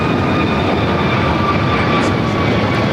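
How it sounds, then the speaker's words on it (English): An American Airlines A321neo jet takes off at LAX, its engines a loud, steady roar that holds unbroken throughout. "This is American Airlines 1138 taking off to Charlotte on the A321neo"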